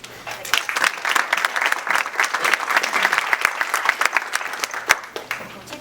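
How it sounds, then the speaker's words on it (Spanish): An audience applauds at a talk on resilience as a psychologist is introduced, steady crowded clapping with sharp individual claps standing out, building and then tapering off over several seconds. "Un fuerte aplauso."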